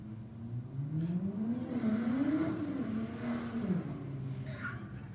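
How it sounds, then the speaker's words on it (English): Drag race cars idle and rev near the starting line, a steady low engine drone rising and falling in pitch through one long throttle swell, loud and continuous with no voices. "BMW slowly rolling up to the line, and the Falcon in behind him"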